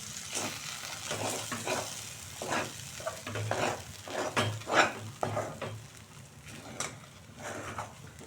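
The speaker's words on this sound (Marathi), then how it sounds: "एकदा हलवून घेते म्हणजे हे तूप छान सगळीकडे मिक्स होईल." Bajra upma being stirred in hot ghee in a pan, with a steady sizzle beneath repeated scraping strokes of a spoon against the pan, close and moderately quiet.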